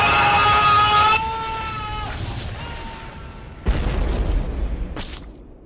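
A bazooka blast in the action film Kick-Ass: a loud booming explosion with a lingering rumble, followed by a second sharp burst and a brief high crackle, amid a dense soundtrack.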